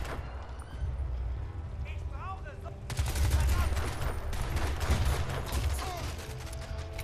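Mounted gun firing in the video game Crysis 2, dense rapid bursts of gunfire that grow louder midway and continue with game effects, a voice talking over parts.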